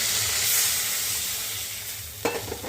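Water poured into a sizzling spiced masala for a rohu fish curry produces a loud, broad steamy hiss that slowly fades, followed by a sharp utensil clack and a few lighter scrapes near the end, close by with no voices.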